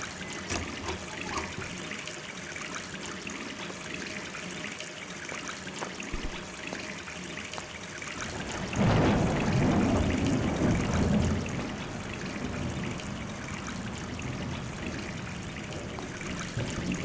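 A tap runs in the Gone Home video game, a steady trickling stream of water that swells into a fuller, louder gush midway before settling back to a constant flow.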